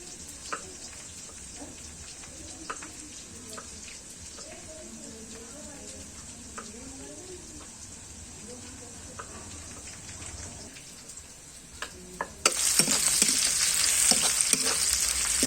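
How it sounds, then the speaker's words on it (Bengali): Chopped onions fry in a pan for homemade chicken ghugni, a steady close sizzle with a faint voice murmuring early on; the hiss grows sharply louder and fuller near the end. "পেঁয়াজগুলো এবার আমি লাল লাল করে একটু ভেজে নেব।"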